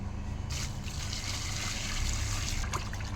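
Water pours off freshly salted, washed fish in a kitchen, a steady close trickle and splash running throughout with no voices.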